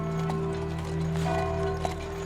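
Black horse-drawn carriage serving as the Grosse Île island ambulance, pulling up outside a hotel, its hooves clip-clopping in an irregular rhythm over a steady background hum.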